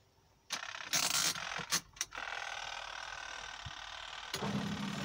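Mini washing machine timer dial turned round to the 10 minute setting in a motorhome, giving a few loud ratcheting clicks and scrapes near the start, then a steady mechanical whir running underneath to the end.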